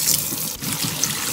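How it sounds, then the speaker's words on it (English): Hot water sprays from a kitchen tap onto frozen peas and corn, a continuous close hissing splash with small irregular bursts. "now we're just spraying my frozen peas and frozen corn with hot"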